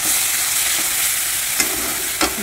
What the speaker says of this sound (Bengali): এটাকে একটু নাড়াচাড়া করব, একটু ভাজাভাজি করে নিলাম।